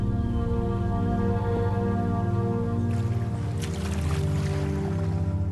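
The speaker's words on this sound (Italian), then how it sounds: "Mark pagaia nell'isolato specchio d'acqua del lago Missinai." A canoe is paddled across an isolated lake, with soft watery swishes and drips from the paddle strokes over a steady low droning background, close and fairly quiet.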